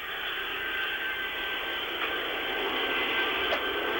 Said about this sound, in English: I see actually the plane that is taxiing up now